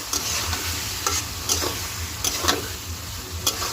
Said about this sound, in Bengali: চিংড়ি মাছটা তিন চার মিনিট কষিয়ে নেব মশলার সঙ্গে